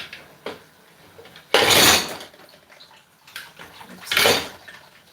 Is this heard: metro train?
no